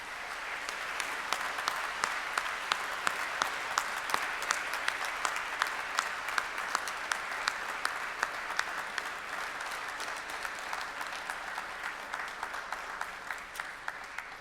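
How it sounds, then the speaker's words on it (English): Sustained audience applause at a university graduation ceremony, a dense steady patter of many hands clapping for the whole stretch, with no voices. "express your gratitude by a round of applause"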